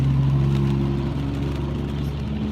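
Low, steady engine drone from a nearby car hauler truck, a continuous rumbling hum with a faint whir and no talking over it.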